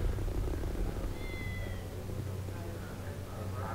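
A cat meows in a Baldur's Gate 2 tavern scene, a short, thin meow partway through over a steady bed of low game ambience and background murmur.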